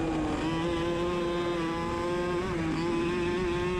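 A racing kart engine bogs through the corners of a new track during a main event race, giving a steady, close, droning buzz with slight pitch wavers and no talk.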